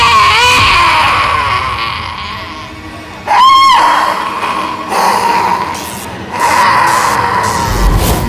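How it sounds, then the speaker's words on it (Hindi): In a CID television crime drama, a woman's high, wailing scream said to come from a ghost rises and falls in several long drawn-out cries over a tense backing score, with a sharp loud burst partway through. "चिल्लाने की आवाज सुनी?"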